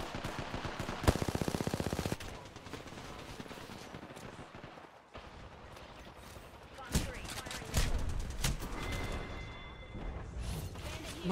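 Gunfire in Apex Legends, a rapid burst of automatic fire followed by scattered shots, mechanical clicks and reload clatter, fairly close and loud amid intermittent game noise.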